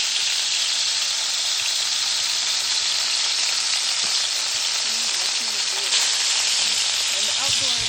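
Oxtail browning in a pan gives off a loud, steady sizzle and crackle that runs without a break, with faint voices talking underneath.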